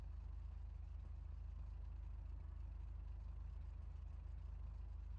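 A car engine, the MG from the title, idles steadily after an oil change, a close, even low rumble with a faint rhythmic pulse throughout, no voices.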